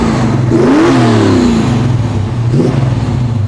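A V8 in an Audi R8 breathing through an X-pipe exhaust revs up hard twice, the deep growling note rising and falling loud and close, with no voices over it.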